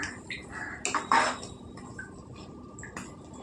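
Green chillies get stirred into a cashew and drumstick curry in a pot, with a spoon clinking and scraping against the metal in a few short bursts over a quiet simmer, close by and with no voices.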